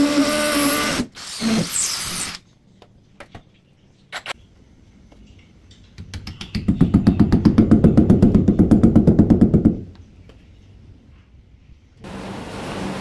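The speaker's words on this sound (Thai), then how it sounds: "แล้วก็ลงมือเจาะผนัง" Power drill boring into a wall to mount a TV bracket for a 50-inch TV, a loud grinding, pulsing burst lasting a few seconds after short taps and handling noises, with no talk.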